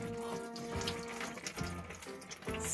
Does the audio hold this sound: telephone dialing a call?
no